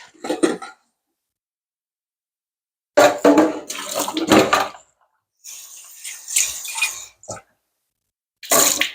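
Tap water running in a kitchen sink while dirty food-prep water is poured out and changed, heard in several separate bursts of splashing and gushing with silent gaps between, fairly close and with no talking.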